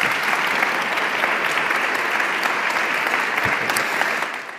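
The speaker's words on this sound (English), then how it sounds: "please give a round of applause to our three panelists before we start the panel" Audience at a re:publica 2017 panel session applauds its three panelists with steady, dense clapping throughout, fading slightly at the end.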